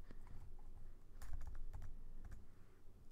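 Keys clack on a computer keyboard while code is being edited, a few quick light taps close by, quiet against a soft background hum.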